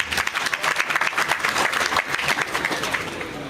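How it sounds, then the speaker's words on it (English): Dense, steady applause from an audience at a launching ceremony for a music movement, many hands clapping close and loud throughout without pause. "Let's give them a thunderous round of applause."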